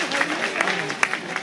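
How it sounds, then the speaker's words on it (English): Applause from an audience at a county Republican Party committee meeting, as a commissioner is thanked for providing refreshments; brief, fairly dense clapping with a few sharper claps standing out. "If y'all would give him a round of applause"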